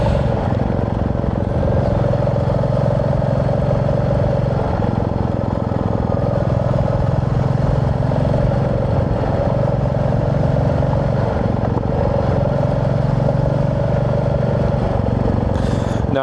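A Royal Enfield motorcycle rides along a rural valley road in Ontario, its engine a steady, close, continuous drone with a low rumbling throb that holds even for the whole stretch, with no talk over it.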